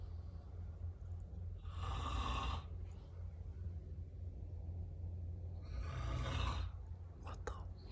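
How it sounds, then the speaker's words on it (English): A man snores in a shared hostel dorm, two long raspy inhalation snores a few seconds apart, heard faint and close over a low steady room rumble. "I woke up at 6 a.m. to this guy absolutely snoring in the hostel."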